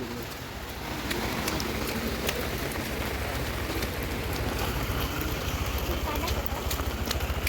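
Steady rain pours down in a monsoon downpour, a dense even hiss of drops on surfaces with occasional louder drips, continuous and close throughout.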